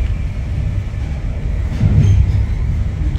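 A charter train hauled by a Class 90 locomotive runs between Crewe and London Euston, heard from on board as a loud, steady rumble of wheels and rail noise with a swelling surge partway through.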